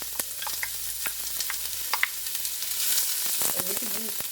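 Diced red onion sizzling and being stirred in hot olive oil in a pan, a steady close crackling fry with scraping stir sounds, no talking.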